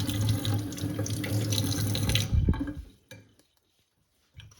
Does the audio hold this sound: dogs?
no